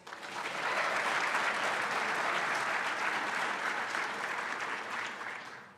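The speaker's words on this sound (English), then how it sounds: "please give another round of applause to our runner-up, Hannah Legel" Audience applause for the runner-up at a school Poetry Out Loud recitation competition: dense, sustained clapping from a full room that holds steady for several seconds before tapering off at the end.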